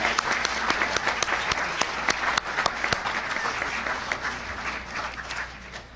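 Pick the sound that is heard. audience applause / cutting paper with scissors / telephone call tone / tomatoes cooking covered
audience applause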